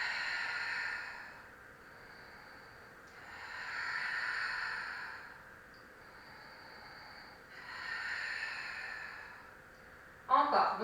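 A Pilates participant breathes in slow, regular cycles during an exercise, with three long, soft exhalations rising and fading at even intervals, faint and close, and a brief sharper sound right at the end.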